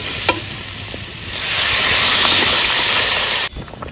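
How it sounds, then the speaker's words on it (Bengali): Water poured into a pan of spiced potatoes frying for a Bengali rohu fish curry sets off a loud, steady rush of steam and sizzle that swells after a brief stir and cuts off sharply near the end. "এবার জল দিয়ে দেবো।"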